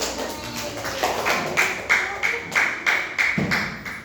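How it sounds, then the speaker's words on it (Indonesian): A classroom of students claps for a group called to the front, starting loosely and settling into roughly eight firm, evenly timed claps, fairly close and moderately loud over a low murmur of room noise. "Tepuk tangan untuk kelompok 3, silakan maju"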